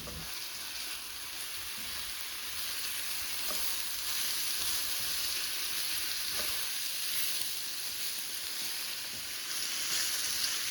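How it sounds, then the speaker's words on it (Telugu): Ground paste and eggplant pieces fry in a pan for a curry, giving a steady, dense sizzle that runs throughout, with a few faint scrapes of stirring and no voices. "బాగా కలుపుకొని ఒక 2-3 నిమిషాలు వేపుకోవాలి"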